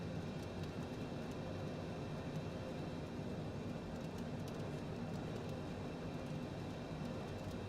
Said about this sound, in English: You can literally hear the wind.